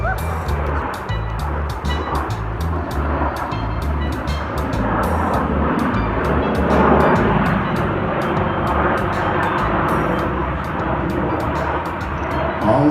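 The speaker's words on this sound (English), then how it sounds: "All 6 airplanes rolling as one." A loud, sustained roar of six Blue Angels jets overhead at an air show, rumbling and droning steadily as they pass together in formation, with crackling bursts throughout.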